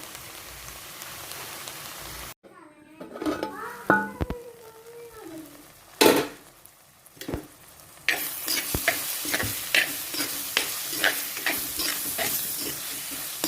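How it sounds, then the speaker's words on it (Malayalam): Chopped onions sauté under a lid in a pan while a fish curry is being cooked. A steady close sizzle is broken by a few sharp stirring clinks and scrapes, and the frying grows louder and denser toward the end. "ഈ സവാള ഒന്ന് വഴന്നു വരുന്നത് വരെ നമുക്ക് ഇതൊന്ന് മൂടി വെച്ച് കൊടുക്കാം."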